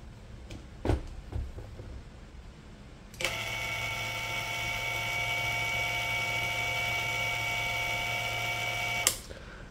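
A Tekiro cordless brushless impact driver spins up at its lowest speed setting, giving a steady mechanical whine that runs unloaded for about six seconds before it cuts off. A few thumps come before the start.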